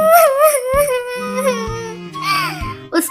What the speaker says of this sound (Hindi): उसके रोने की आवाज सुनकर कालू कौवा वहाँ आता है।